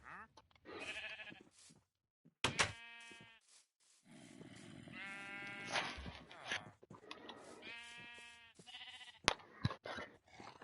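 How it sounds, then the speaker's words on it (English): Sheep in Minecraft bleat repeatedly in short, wavering cries, several spaced through the stretch, alongside a few blocky game sound effects with no other noise. "He's a blue sheep."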